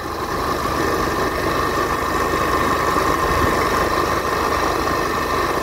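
A car engine hums steadily at close range, a continuous mid-pitched drone with road rumble and no talking.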